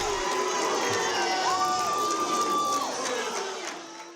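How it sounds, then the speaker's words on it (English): A crowd gathered in a room for a Bahamas legal ruling reacts with loud, sustained cheering and excited shouts, a broad wash of many voices that swells and then gradually fades toward the end. "The crowd reacted."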